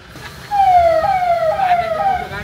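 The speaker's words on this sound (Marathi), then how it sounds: "पोलीस गाडी बी आली." A police car siren wails with a falling pitch, fairly close and loud, over the low rumble of traffic in a flooded market area.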